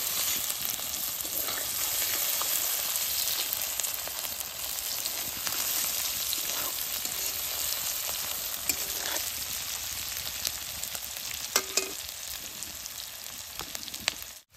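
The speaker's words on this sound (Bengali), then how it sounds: "পাঁচ ফোড়নটা তেলে দিয়ে দিছি, এখন পুইরা নেব।" Panch phoron, ginger, garlic, onion and green chilli fry in hot oil, producing a steady, loud sizzle with occasional stirring scrapes and small pops, no voices present.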